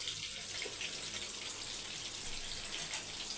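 Water poured into a pot of chicken biryani masala, a steady hissing splash, fairly faint and continuous, with no talk.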